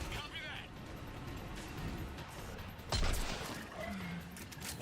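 Gunfire rattles in a shooter video game, scattered muffled shots and a heavier burst under continuous voices talking over the action.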